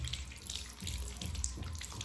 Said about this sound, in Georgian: უი, წყალი წდება.